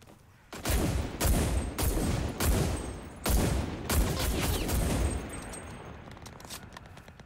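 Heavy gunfire rattles in Cuisine Royale, a run of loud close bursts and single booming shots for about five seconds before fading into quieter distant pops.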